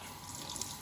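Dirty, soapy water from a rock tumbler drum polishing rose quartz pours out in a steady, fairly quiet stream, with faint splashing and trickling throughout.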